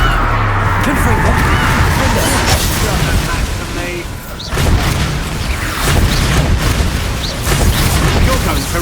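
Repeated Confringo spell blasts in Hogwarts Legacy during a chaotic fight, dense booming bursts rolling one into another over busy combat noise, with voices shouting now and then.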